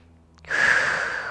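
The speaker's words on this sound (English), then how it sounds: "breathing through my stomach" A person on a beach takes a single deep, slow breath from the stomach during a yoga stretch, heard close up as a long, airy exhale of breath with nothing else in the foreground.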